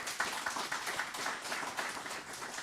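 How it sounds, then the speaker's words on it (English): Audience applause for speakers at a Melbourne CocoaHeads developer meetup: a steady, fairly faint wash of clapping from a room of people that continues evenly throughout without a clear start or end. "Big round of applause for them."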